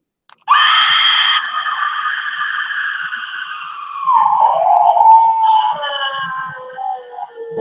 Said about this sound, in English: The Scarecrow scream.